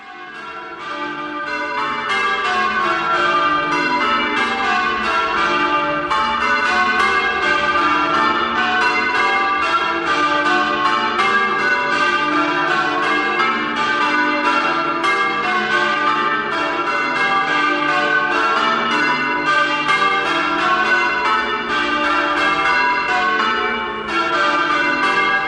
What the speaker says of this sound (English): Majestic sounding church bells.